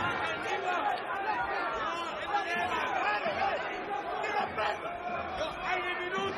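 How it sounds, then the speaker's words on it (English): Boxing arena crowd at the Arena Armeetz, a steady murmur of many voices and chatter filling the hall throughout, with a commentator's voice over the top. "And look at the crowd here at the Arena Armeij."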